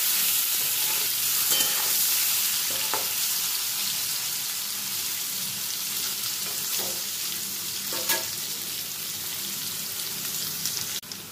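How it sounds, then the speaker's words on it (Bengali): Paneer and potato pieces fry in a pan of oil, giving a steady, fairly loud sizzle with occasional stirring clinks and scrapes throughout, no voices. "পনিরগুলো ভেজে তুলে নেওয়ার পর আমি আলুগুলোও কিন্তু একটু ভেজে নেব"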